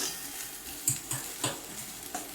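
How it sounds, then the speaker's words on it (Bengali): Mixed vegetables including pumpkin and papaya being sautéed with ginger paste in a pan, giving a soft, close sizzle with a few light knocks of a spoon against the pan, fairly quiet. "আদা বাটাটা দিয়ে ভালো করে সবজিগুলো কিন্তু একটু কষিয়ে নিলাম"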